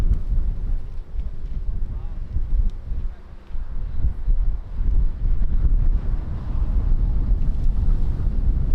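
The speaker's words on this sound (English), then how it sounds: "That's a perfect headwind." Strong wind at Lisbon Airport buffets the microphone in loud, gusty, uneven rumbles that rise and fall without pause, with no clear speech.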